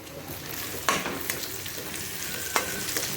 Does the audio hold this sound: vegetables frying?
yes